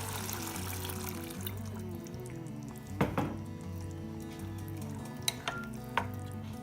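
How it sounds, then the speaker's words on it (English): Coconut milk pours into a pot of simmering mung dal curry, a soft trickling pour followed by a few sharp clinks of utensil against the pot, fairly quiet with no talking. "Now you can go ahead and add the coconut milk."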